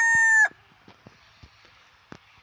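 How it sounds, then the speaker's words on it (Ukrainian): A loud rooster crow cuts off abruptly, followed by soft scattered clucks and faint pecking sounds from a backyard flock of chickens. "Дивіться, яка велика курочка, просто огромна."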